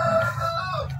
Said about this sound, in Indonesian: Kondisi memang masih pagi ya, jadi ayam rainbow-nya sedang berbunyi.